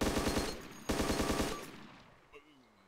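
Rapid bursts of automatic gunfire in the video game DayZ fill the first second and a half, then fade out, leaving a brief quiet tail with one small thud.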